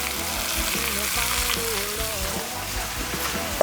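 Loud, steady sizzling of bell peppers and onions frying in hot oil in a pot, a dense crackling hiss that fills the whole stretch without pause.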